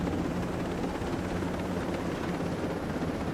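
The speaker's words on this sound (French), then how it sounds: "Il y a plein d'hélicoptères qui survolent la zone" Helicopters in Ghost Recon Breakpoint thrum steadily overhead, a dense, continuous rotor rumble with no pauses or voices.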